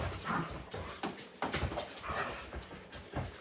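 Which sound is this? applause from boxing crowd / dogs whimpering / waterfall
dogs whimpering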